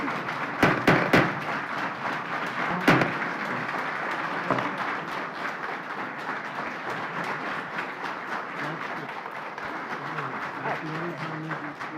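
Applause breaks out in a county board of commissioners meeting room, a sustained crowd of clapping with a few sharper claps at the start, steady and fairly loud throughout.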